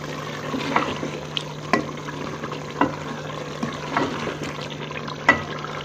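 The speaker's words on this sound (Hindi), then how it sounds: "अब हम इसकी फ्लेम को फुल करके और इसका पानी खुश्क कर लेंगे" Chicken with turnip and spinach sizzles in a pan over full flame as the last water cooks off, a steady close hiss broken by occasional clicks and scrapes of stirring.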